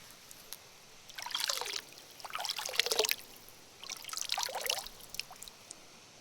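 A small natural spring trickles out at the root of a tree, giving three separate bursts of pouring, splashing water over a quiet outdoor background, with no voices.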